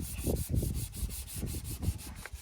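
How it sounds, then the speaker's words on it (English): Spray paint being scrubbed by hand off a Don Prudhomme funny car body, heard as a close, repeated rubbing rasp in quick back-and-forth strokes, with no talking. "It's still going to take some more scrubbing."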